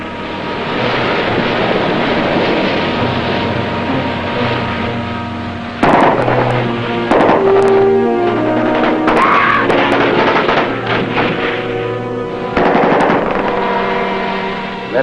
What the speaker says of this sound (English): That's pretty heavy fire from shore.